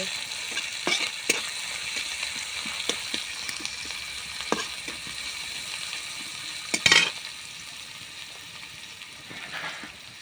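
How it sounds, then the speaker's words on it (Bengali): Grated garlic fries in a pan with a steady close sizzle while a utensil stirs it, adding scattered scraping clicks and one sharper clatter against the pan, with no talking. "গ্রেট করা রসুন ভালো করে নড়ব"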